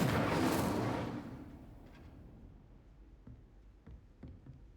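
An Incendio fire spell is cast in Hogwarts Legacy, releasing a loud whooshing burst of flame that fades over about two seconds, followed by faint crackles and small pops.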